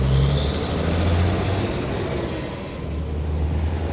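A truck engine idles with a deep, steady rumble, close by and continuous, with a faint hiss of air in the background.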